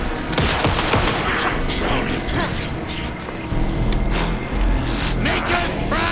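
Gunfire in the video game Alan Wake 2, a loud, sustained flurry of shots and impacts with deep rumbling booms, dense and close.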